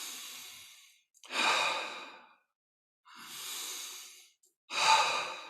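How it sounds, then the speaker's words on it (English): Slow, deep breaths during a meditation session, with two long airy inhales and exhales close to the listener, soft and steady, separated by silent pauses, and no speech. "you take some deep breaths"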